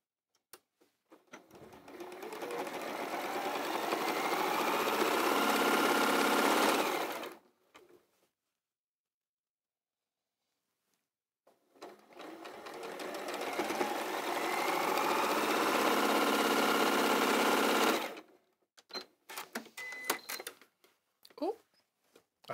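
Domestic sewing machine chain piecing quilt blocks for a kimono quilt, running in two long steady bursts of about six seconds each with a pause between, followed by brief clicks and handling.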